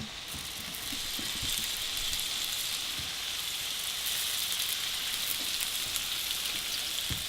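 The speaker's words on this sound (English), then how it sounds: "I think we have enough heat on our grill pan so we can get our shrimp started." Marinated shrimp sizzle on a hot grill pan with a continuous close, rain-like crackle and hiss throughout, no talking.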